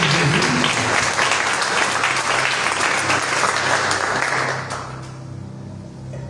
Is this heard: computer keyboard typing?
no